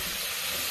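Pizza sauce ingredients sautéing in a pan, a brief loud and steady sizzling hiss heard close up.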